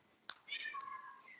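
An agitated cat meows outside, a single drawn-out, wavering cry heard faintly from a distance, preceded by a sharp click.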